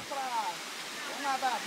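A waterfall gives off a steady, rushing roar on a group outing, with people's voices talking faintly over the continuous flow.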